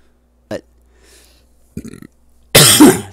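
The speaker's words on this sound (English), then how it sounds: "excuse me, burp cough combination." A short throaty burp, then a rough burp-cough a second later, followed by a loud, broad blast of noise at the end.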